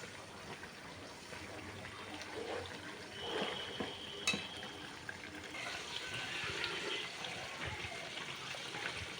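About 1.5 kg of homemade hair oil bubbles and boils in a large wok, a constant frothy gurgle with irregular pops and one sharp metallic clink midway, moderately close.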